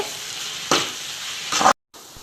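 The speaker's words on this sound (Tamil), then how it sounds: "ப்ரௌன் கலர் ஆகிறது வரைக்கும் வெங்காயத்தை நல்லா வந்து கிளறி விடணும்" Onions frying and being stirred in a pan for a chicken curry, a steady close sizzle with two louder scraping stirs, then a brief cut to silence before the frying resumes.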